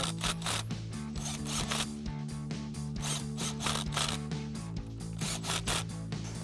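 An impact gun with a 13mm socket drives bolts while a short throw shifter is installed in a 2009-2023 Dodge Challenger. It makes a close, rapid, rhythmic hammering rattle that continues steadily for several seconds.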